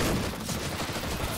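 Mag 7 shotgun fire in competitive CS-GO, a short dense burst of close, loud gunfire with no talk over it.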